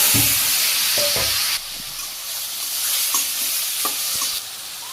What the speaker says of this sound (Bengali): তেল দিয়ে দিলাম, জিরে মেথি আদা কাঁচামরিচ এই সবজি দিয়ে দিলাম